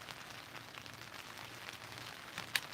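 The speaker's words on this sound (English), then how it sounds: "hop in the backyard tent, listen to the rain too" Rain falls steadily on a backyard tent, a soft, even patter heard from inside, close and quiet, with a brief sharper tap near the end and no voices.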